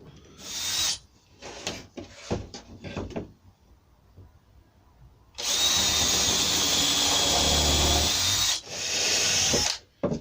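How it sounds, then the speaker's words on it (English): A power drill countersinks screw holes in oak, starting with several short trigger bursts and handling knocks, then a long steady whirring run followed by a brief final burst, all close by with no speech. "Now I just countersinked them, but then I just went with a slightly thicker bit, just to make sure that the screws drop in."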